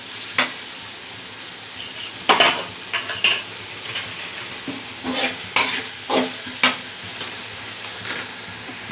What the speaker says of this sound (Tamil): நம்ம மஞ்சள்தூள் போட்டு நல்லா வதக்கி விடணும்.